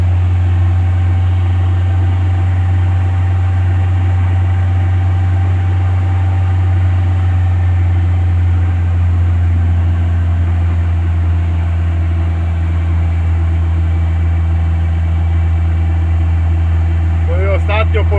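A Żuk van driving on a windy road, its engine running with a steady low drone and hum throughout, close and fairly loud, with no pauses.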